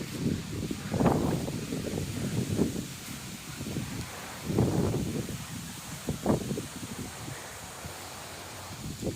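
Gusty wind before a storm rustles through dense crops in a village field, swelling in loud surges and easing off between them.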